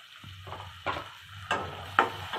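Finely chopped tomato sautés in a pan for chicken bhajun chutney, with four quick scraping stirs spaced about half a second apart over a soft, quiet sizzle.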